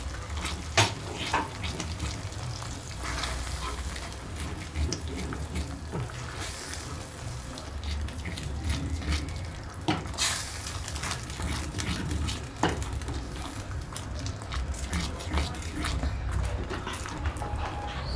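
Egg curry with soy sauce simmers in a pan over low heat, giving a steady soft sizzle and bubbling with occasional light stirring clicks, close and continuous without any talk.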